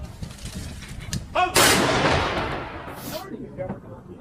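Ceremonial rifle volley salute fired by soldiers: one loud sharp crack followed by a long decaying rumble, with a smaller report after it, while voices shout and talk around it.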